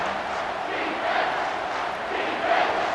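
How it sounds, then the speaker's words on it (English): Stadium crowd in the EA Sports College Football 25 video game roars steadily as a dense, continuous wall of fan noise, swelling slightly in waves throughout with no clear talk over it. "These fans are going absolutely nuts."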